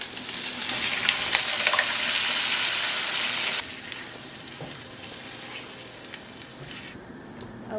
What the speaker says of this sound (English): I am now sauteing the meat with the sauce, and I am adding the same seasonings